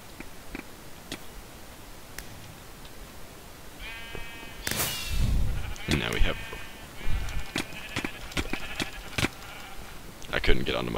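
Blocky sheep in Minecraft give short, repeated bleats scattered among game clicks and ticks, with a player talking over them.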